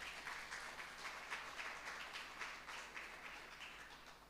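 A church congregation claps together in a dense, even patter, fairly faint and steady, fading slightly toward the end.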